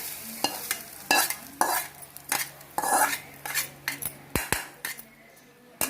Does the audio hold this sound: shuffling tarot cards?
no